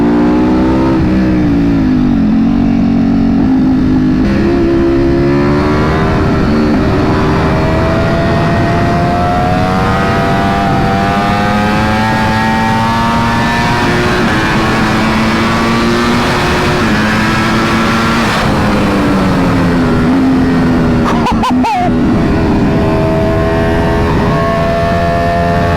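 A BMW M1000RR superbike on a race track, its engine loud and close, climbing through high revs under hard acceleration, then dropping sharply as it brakes and rising again, steady and continuous with no talk.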